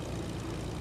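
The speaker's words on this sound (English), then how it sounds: "Oh, is that guy in a plane?" A propeller airplane flies in Fortnite, giving a brief, continuous droning engine rumble that fills the short moment without any break.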